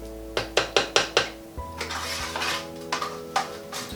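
Diced butternut squash tipped into a pan, a quick run of five sharp clattering knocks followed by softer scattered thuds and scrapes as pieces settle, close and fairly quiet, no voices.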